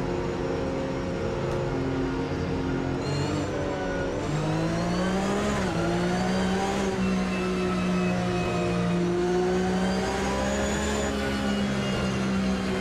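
Race cars in the Automobilista 2 racing game roar continuously, engines rising and falling in pitch through gear changes and revs, with overlapping cars close by and no talking.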